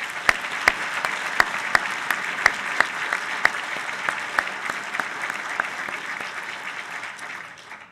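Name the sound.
audience round of applause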